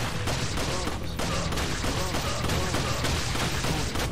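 Dense, rapid gunfire from the Resident Evil 4 game rattles continuously, loud and close, with shots overlapping in a steady barrage and a faint voice underneath.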